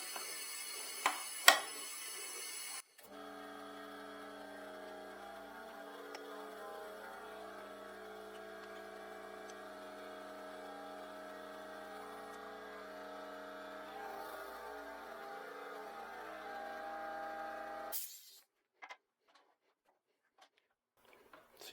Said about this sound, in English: Compressor is going to come on.